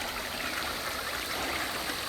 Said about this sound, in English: you are going to come across this amazing stream